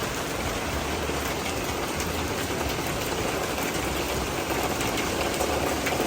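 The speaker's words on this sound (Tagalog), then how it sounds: "lakas po ng ulan" Heavy typhoon rain pours down in a dense, constant roar, loud and close, with a faint low rumble beneath and no voices.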